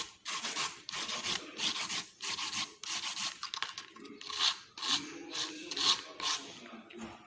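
Repeated rasping strokes of a nail file on gel nails, steady back-and-forth rubbing in short bursts, close and moderately quiet.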